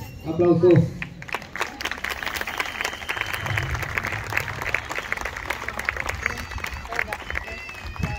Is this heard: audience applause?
yes